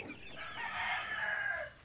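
Broiler chickens in a coop clucking and calling in a steady, moderately loud chorus that carries for about two seconds, close by, with no talking.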